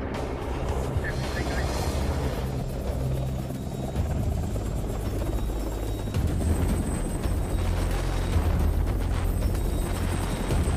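An EH-101 helicopter's engine and rotors roar loud and steady throughout, a continuous close whine and thump filling the whole stretch.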